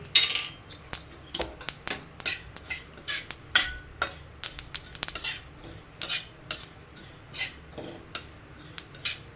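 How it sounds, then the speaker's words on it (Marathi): White sesame and poppy seeds dry-roast in a pan, a metal spatula scraping and clinking against it in an irregular stirring rhythm, close and crisp. "हे बघा सफेद तीळ टाकते मी त्याच्यामध्येच आपण खसखस घेऊया भाजून"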